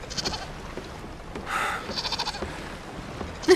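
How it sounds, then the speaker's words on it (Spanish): A goat bleats in a few short, nasal cries, fairly close, with quieter rustling and background noise between calls. "¡Nuestra cabra! ¿Su cabra?"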